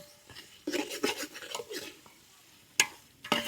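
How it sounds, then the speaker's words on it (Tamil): Tomatoes for chicken biryani frying in a pan with ginger and garlic while being stirred, giving a quiet sizzle broken by scraping strokes and a couple of sharp clinks near the end. "தக்காளியை போட்டு நல்லா கிளறி விடணும்"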